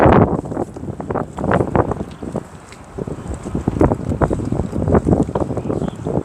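Gusty wind buffeting the microphone around a boat with a failing bow thruster at Alton, rising and falling in uneven rushes and loud throughout.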